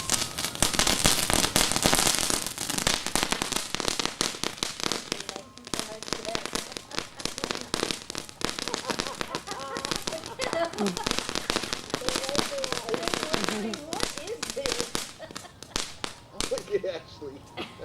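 Smoke bombs and firecrackers going off outdoors, giving sharp cracking pops, loudest and densest early on, then scattered bursts and crackle while people talk nearby.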